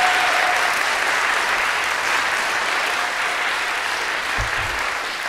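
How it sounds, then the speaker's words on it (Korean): An audience at a concert claps continuously in dense, loud applause that holds steady before easing slightly near the end. "큰 박수 한 번 더 보내주시겠습니까?"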